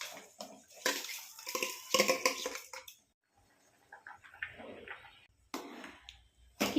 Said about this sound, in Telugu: ఇప్పుడు రైస్ వేసుకుందాం.